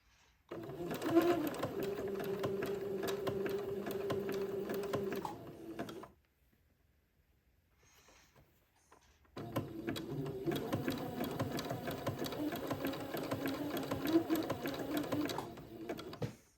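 A sewing machine zigzag-stitches lace to entredeux, running in a steady, close, rhythmic whir, then pausing for a few quiet seconds before resuming at the same even pace.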